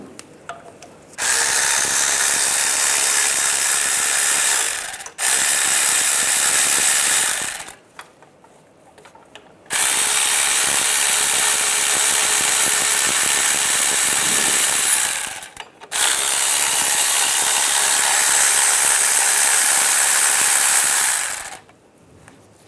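Rapid ratcheting bursts from a tool on a 13mm socket loosening power steering pump bolts on a 1998-2010 Volkswagen Beetle, four long loud runs of dense buzzing clicks separated by short pauses, close and alone.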